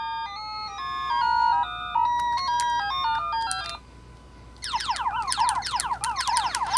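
Start jingle from a Galaga Pixel Pocket Pro handheld arcade game: a bright, loud sequence of electronic beeping melody notes, a short pause, then a rapid warbling run of rising and falling synthesized tones.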